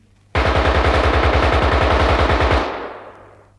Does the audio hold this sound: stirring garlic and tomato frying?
no